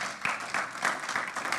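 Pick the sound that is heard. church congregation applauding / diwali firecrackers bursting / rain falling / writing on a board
church congregation applauding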